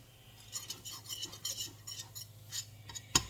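A utensil stirs a flour roux seasoned with salt, pepper and onion powder in a pan. It gives faint, quiet scrapes and light clinks, ending in one sharper clink.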